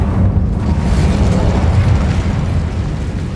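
A fire spell cast in the Hogwarts Legacy video game gives a loud, sustained, roaring burst of flame with a heavy low rumble that fills the whole moment without letup.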